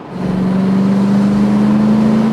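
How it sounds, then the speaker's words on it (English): Triumph Stag engine pulling the GT car steadily along at 60–70 mph, a close, continuous droning hum that holds level and rises slightly in pitch, with no talk over it. "It's lugging itself along here at 60-70 miles an hour effortlessly, just like a GT car should."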